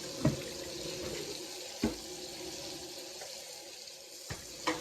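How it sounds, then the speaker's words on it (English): Hands being washed under a running kitchen tap, a steady close hiss of flowing water into a sink with a few soft knocks and splashes, no talking. "Just wash my hands."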